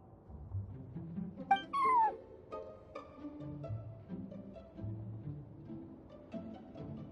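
A cartoonish cat meows in Genshin Impact during a feline-themed event: one rising-then-falling mew stands out mid-clip, set over looping game music and effects that run throughout.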